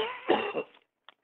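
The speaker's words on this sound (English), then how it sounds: "I'm going to have another good cough." A single harsh cough bursts out close to the mic from an elderly woman, followed by silence and a faint throat sound.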